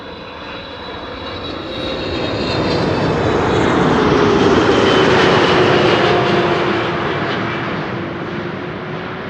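Boeing 777-300 jet airliner at Amsterdam Schiphol, a loud, sustained engine roar that builds to a peak in the middle and then slowly eases, with a faint descending whine, heard alone.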